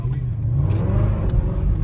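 A rear-wheel-drive car with a 545-horsepower V8, driven in the rain, accelerates hard with a loud, close engine roar that holds steady for a couple of seconds.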